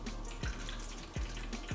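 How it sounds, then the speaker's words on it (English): Pickle juice pours into a bowl to start a brine for fried chicken, making a steady close trickle broken by a few sharp drips and splashes, with no talking. "Just pour some pickle juice in there."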